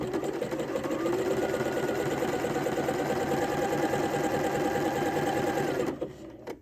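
A domestic sewing machine runs steadily, stitching a stretched neckband onto a dress bodice, a close, even mechanical whir with a rapid needle rhythm that stops abruptly near the end.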